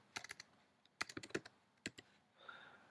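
Quiet, close keystrokes on a computer keyboard, a few short clusters of clicky taps over about three seconds, ending in a soft rustle.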